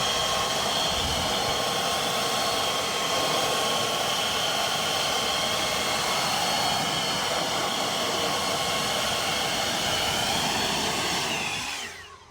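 A car is blown dry after a pre-wash rinse, a loud, steady broadband air roar like a powerful blower running continuously close by, cutting off at the very end; no talking.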